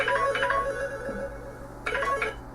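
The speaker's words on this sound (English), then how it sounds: "Phone rings at the most inopportune moments." An electronic telephone ringtone chirps in two short bursts separated by a pause, fairly close and moderately loud over a steady hum, with no talking.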